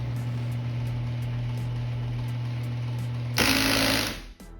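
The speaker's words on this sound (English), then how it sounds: "I'm having a grinding noise when this opens." A Genie garage door opener with a faulty limit switch and bent rail hums with a steady motor drone and rhythmic ticking, then a harsh loud grinding rasp bursts in near the end before cutting off.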